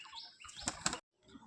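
Pigeons flap their wings inside an indoor pigeon room, a quick flurry of loud close wingbeats with brief chirps, then a short pause before softer rustling resumes.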